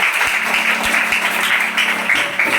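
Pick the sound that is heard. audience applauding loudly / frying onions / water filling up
audience applauding loudly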